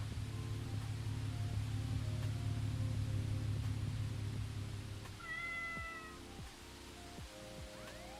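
In the video game Pumping Simulator 2, a cat gives a few short meows over low droning engine hum and static-like noise, faint and brief in the middle of the scene.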